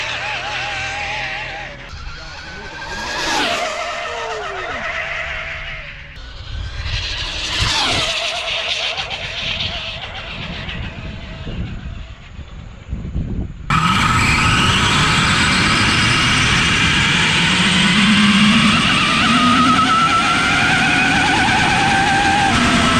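A fast RC car drives and skids with loud whining motor and tire scrubbing, then a sustained rushing roar takes over partway through as it runs at high speed.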